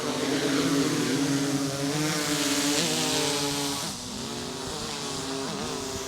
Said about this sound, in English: So props spin up.